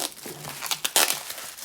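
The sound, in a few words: peeling back plastic wrapping on Sony XM4 headphones box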